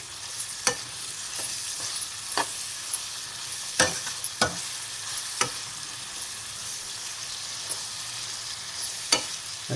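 Vegetables and tomato frying in a pan for vermicelli pulao give a constant sizzle, punctuated by frequent sharp clicks and scrapes of a stirring spoon against the pan, with no voices.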